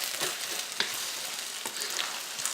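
Fish sauce being stirred into red curry in a hot pan gives a steady close sizzle with a few soft scraping stirs spread across it, and nobody speaks.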